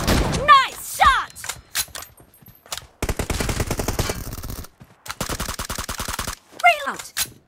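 Bursts of automatic gunfire in a BGMI team deathmatch, short rapid volleys broken by gaps and a few distinct single shots, with game voice cues and whoosh effects mixed in.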